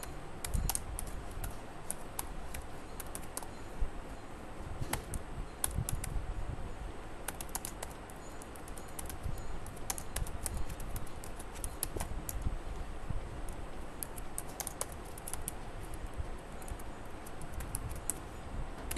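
Someone types on a computer keyboard while filling in an Excel invoice sheet, producing a steady, close stream of light key clicks with occasional heavier taps and no talking.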